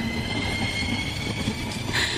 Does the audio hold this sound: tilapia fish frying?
no